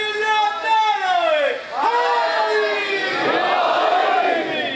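A crowd at a Shia majlis in an imambargah in Sahiwal chants a religious slogan in unison, loud and near, with rising and falling collective voices that surge again after a brief dip.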